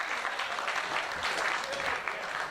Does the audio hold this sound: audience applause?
yes